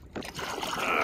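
A fishing kayak is paddled through a Galveston marsh, giving a brief, close wash of water with soft sloshing and gurgling as the paddle pulls through.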